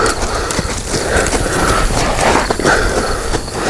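Hooves of a big Gypsy Vanner plow horse moving steadily under saddle during colt starting, a continuous clopping close by with no voices.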